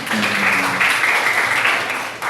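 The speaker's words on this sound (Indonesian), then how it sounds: "Tepuk tangan semuanya." A class of schoolchildren clapping together in a classroom, a dense, steady wash of applause that stays loud and close for about two seconds before briefly dropping off at the end, with faint voices underneath.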